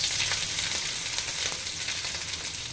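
Green chillies frying in hot oil with mustard seeds, cumin and chana dal for a puffed rice dish: a steady, loud, bright sizzle crackling continuously from start to finish.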